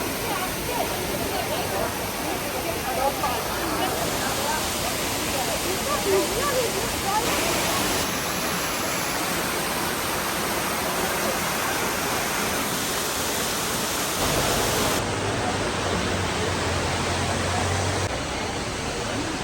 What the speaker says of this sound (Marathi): तुम्ही मस्त धबधबा आहे